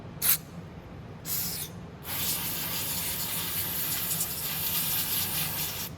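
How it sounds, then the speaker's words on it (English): Two short hisses from an aerosol can of carburetor cleaner, then a long steady spray that keeps hissing loudly to the end, close by, cleaning a Nibbi carburetor. "use my carb cleaner and spray everything out"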